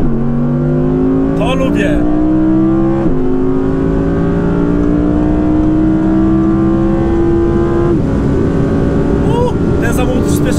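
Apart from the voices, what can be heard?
Audi R8 V10 engine revving while downshifting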